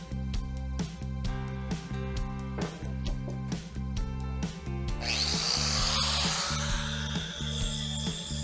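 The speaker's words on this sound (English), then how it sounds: "I'm using a flap disc on the angle grinder to take those welds down" An angle grinder with a flap disc grinding welds on a drill press table; a rhythmic mechanical pattern gives way midway to loud, harsh, continuous grinding that lasts to the end.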